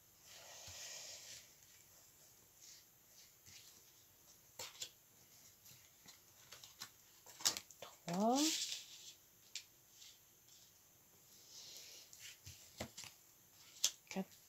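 Tarot cards are shuffled and drawn in quiet, close bursts of riffling and sliding card faces, with soft taps and a sharp rising swish, interspersed with a person speaking quietly.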